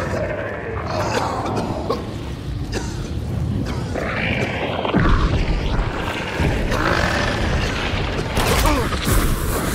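Gunfire in the video game Hunt: Showdown booms and cracks in scattered bursts amid game noise, with players talking and grunting over the shots.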